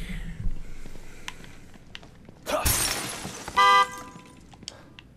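A car horn honks in The Evil Within 2, a short harmonic blare arriving after a burst of shattering noise, heard against a quiet, eerie game background.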